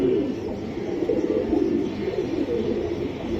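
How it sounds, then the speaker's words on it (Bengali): Close, continuous cooing from an old-breed Mayna pigeon, a low warbling throb that holds evenly throughout with no talk. "এটা ময়না কবুতর পুরানো জাতের"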